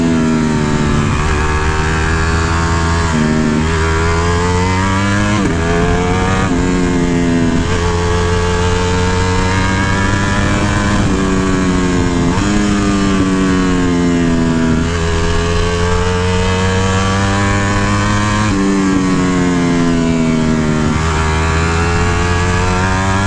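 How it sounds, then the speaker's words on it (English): A 2018 Ducati Panigale V4 S with a full Akrapovic exhaust, ridden in race mode, roars loud and continuous, its engine revving up and down through repeated gear changes with rising and falling pitch. "Nutty sounding exhaust."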